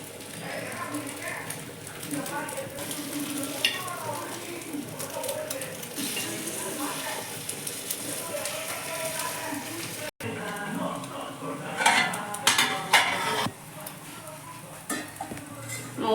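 Egg paniyaram batter cooking and being flipped in a paniyaram pan for an egg kulambu. Soft sizzle with clinks and scrapes of metal, under continuous talk.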